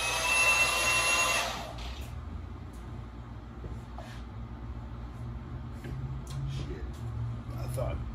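A Milwaukee M18 Fuel cordless band saw cuts a small chunk off aluminum stock, a loud whining buzz at first that drops to a steady lower hum. Someone talks over it.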